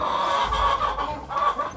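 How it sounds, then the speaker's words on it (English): Kuroiler hens on a poultry farm clucking together, a close, continuous chorus of overlapping clucks. "Those are the hens."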